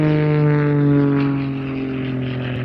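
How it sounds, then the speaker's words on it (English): A modified Pitts S2 SE aerobatic propeller biplane flying at an airshow, its engine giving a loud, steady droning roar with a strong low hum that fades slightly as it moves away. "that is one heck of a powerful aircraft. The Pitts S2 SE modified"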